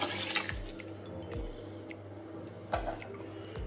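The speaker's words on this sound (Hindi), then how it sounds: "ये पानी में हमने इसको भिगो के रखा था लहसुन को, ये उसका सारा पानी।" Garlic-soaked water poured into a pot while making degi mutton korma, with a few splashing pours and drips over a low kitchen hum, quiet and close.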